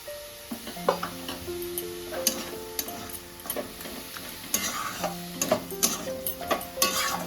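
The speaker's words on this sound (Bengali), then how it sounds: "এবার আমি কিছুক্ষণ এটাকে ভালো করে নেড়ে নেড়ে একটু শক্ত করে নেব" A chhana and coconut sandesh mixture with fresh jaggery being stirred in a pan, repeated spoon scrapes and taps over a soft sizzle, close and uneven in rhythm, no talking.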